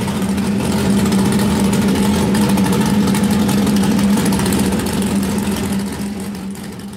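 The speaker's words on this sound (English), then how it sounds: "We can play it so people can hear what this engine sounds like." A factory drag car Dodge Challenger engine idles with a loud, steady, throbbing rumble, continuous and close, easing off slightly at the end.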